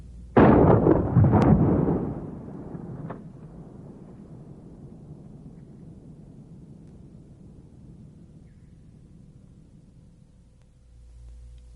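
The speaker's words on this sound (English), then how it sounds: "Shooting the dustbuster into ballistic gel has an equally devastating effect." A 12 gauge dustbuster shotgun round fired into ballistic gel: a loud, close blast with a couple of quick cracks in the first two seconds, followed by a long rumbling echo fading slowly.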